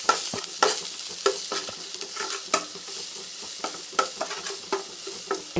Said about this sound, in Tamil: அதில் கறிவேப்பிலையும் போட்டேன் ஆல்ரெடி இப்போ பெருங்காயம் ஆட் பண்ணிட்டேன் இதையும் நல்லா வதக்கலாம்